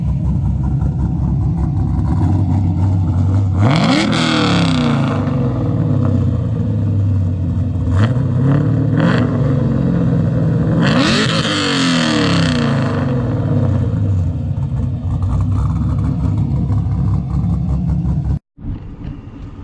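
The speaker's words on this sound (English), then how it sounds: "Rev it up a little." A Duramax LBZ diesel pickup truck fitted with a cam and upgraded heads idles with a deep rumble, then revs up sharply twice and falls back to idle. It is loud and close, with a brief cutoff near the end.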